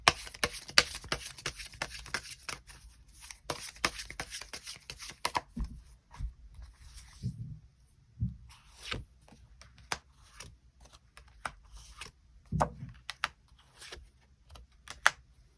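Tarot cards are shuffled and drawn, with a quick run of riffling clicks at first, then sparse separate taps and slides of cards handled up close, with no voices.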